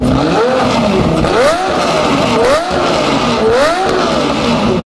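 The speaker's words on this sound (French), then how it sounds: "Le moteur commençait à avoir un bon son. Il était donc temps de le faire tourner." A loud Lamborghini Murcielago engine revs repeatedly, rising and falling in several sharp bursts close by, then cuts off abruptly.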